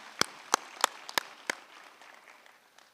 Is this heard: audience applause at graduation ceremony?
yes